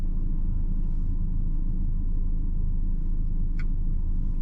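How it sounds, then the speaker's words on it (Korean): A BMW 2 Series Gran Coupe M235i engine idles with a steady low rumble, fairly quiet and constant, with a brief faint click partway through. "이 차의 아이들 시의 소음들 한번 볼게요."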